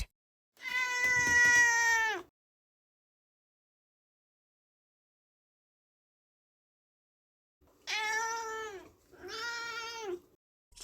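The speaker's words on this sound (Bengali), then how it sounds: "বিড়ালকে ইংরেজিতে বলা হয় ক্যাট" A domestic cat meows clearly and close by, one long call followed after a long silence by two shorter meows in quick succession, with no other sound around them.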